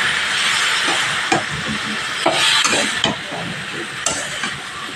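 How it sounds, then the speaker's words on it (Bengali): Spices and vegetables sautéing in a pan with a little added water for a prawn, pumpkin and Malabar spinach curry: a steady bright sizzle and hiss with occasional stirring scrapes and bubbling pops, close and constant. "একটু অল্প পরিমাণ এখানে জল দিয়ে কষিয়ে নেব।"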